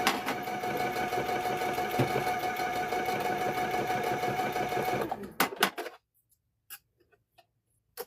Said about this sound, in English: So we're going to stitch down this other line.